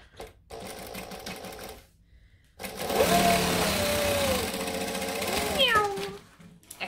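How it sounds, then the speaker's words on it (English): A sewing machine top-stitching along the top seam of a Crypt Carrier bag with a drop-in lining, running in two bursts separated by a short pause, the second longer and steadier, close and fairly loud. "we're going to top stitch along the top"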